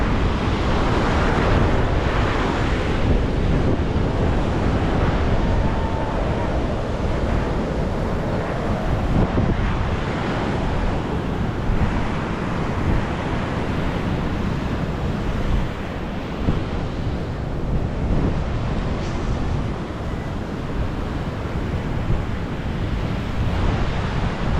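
Ocean surf breaking continuously on a Florida Emerald Coast beach, a loud steady roar of waves with heavy wind buffeting the microphone throughout and no voices.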